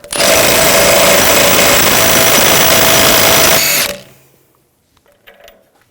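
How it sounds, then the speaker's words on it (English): Power tool driving a 36mm 12-point socket to remove the rear axle nut on a 2006-2010 BMW 550i: a loud, steady whirring burst that cuts off abruptly, followed by quiet clanks. "Take a 36mm 12-point socket, take the nut off."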